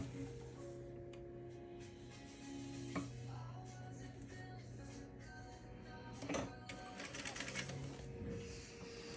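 Juki 8100e straight-stitch sewing machine quilting with an Organ 16 needle and Tex 40 thread, a faint steady mechanical hum with a tonal whine, light ticking, and a brief burst of faster clatter near the end.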